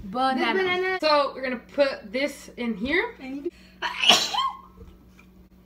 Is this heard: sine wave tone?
no